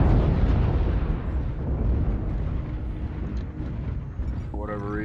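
An artillery strike in MechWarrior Online lands as a loud, dense, continuous rumble of heavy blasts that rolls on for several seconds, with a rising tonal whine creeping in near the end.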